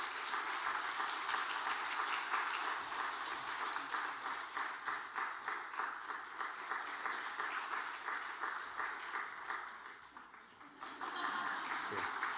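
A church congregation at a Sunday worship service claps in rhythmic applause after greeting one another, with voices mingling in the room. The clapping dips briefly near the end and then picks up again.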